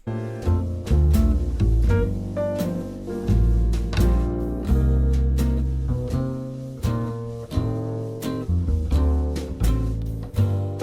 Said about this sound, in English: Let's find an acoustic guitar.